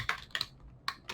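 Someone types HTML on a computer keyboard, producing a few crisp, irregular key clicks close by in a quiet room.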